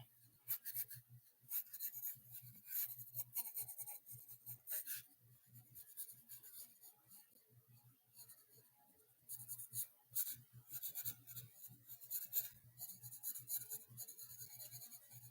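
Pencil scratching on paper in quick strokes and bursts, some short and light, others longer and rasping, close and quiet over a soft low hum, with no talking.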